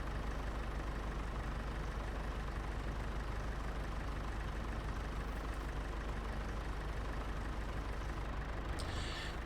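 A tractor engine runs steadily while a 10,000 litre water tank fills on a farm, a constant heavy rumble that stays level throughout with a brief hiss near the end.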